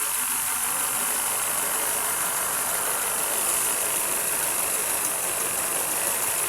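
An idling Honda Civic engine misfiring, running unevenly, a continuous loud drone with rough, stumbling pulses, close up and with no voices.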